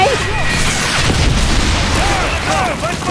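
Grenade blasts in the video game Call of Duty Modern Warfare 3 make a heavy, continuous low rumble and boom with crackling debris, loud throughout, while someone talks over it.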